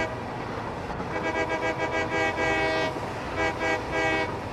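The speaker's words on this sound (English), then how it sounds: "Eventually I'll get the choo-choo whistle." A video game train whistle toots in repeated bursts, a bright stacked tone sounding twice in a row over a low background rumble.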